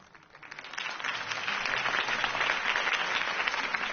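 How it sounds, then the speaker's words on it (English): A crowd applauds after a campaign speech in the Telltale Batman video game, the clapping rising from quiet to a steady, full roar of many hands that holds until the end. "If only Mr. Wayne, my campaign's largest backer, could have heard that applause"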